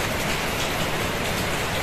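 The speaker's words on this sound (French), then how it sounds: "il pleut chez moi depuis 5 heures à peu près" Steady rain falls outside a home in the early morning, a dense, even hiss of drops on surfaces with no breaks. It is fairly loud and alone, with no voices.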